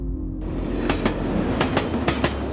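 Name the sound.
large train arriving and stopping at railway station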